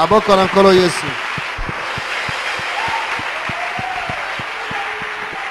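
Church congregation clapping in a quick, even rhythm of sharp claps over a murmuring room, following a brief burst of voice at the start.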